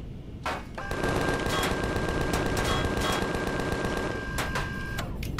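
Rapid automatic gunfire from the Empyrion video game rattles in a steady, loud burst lasting several seconds, with a few separate shots at its start and end.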